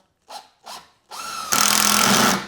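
A power drill driving screws into the wood frame of a large HO model train table. Two short clicks come first, then the motor whirs up and settles into a loud, steady, close grinding drive.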